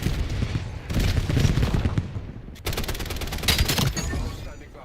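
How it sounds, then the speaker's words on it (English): A cluster grenade and rattling gunfire in Call of Duty Black Ops 7 form a dense volley of shots and bursts. A sharp onset comes partway through, and the firing then carries on steadily. A game voice speaks briefly. "Hostile cluster grenade."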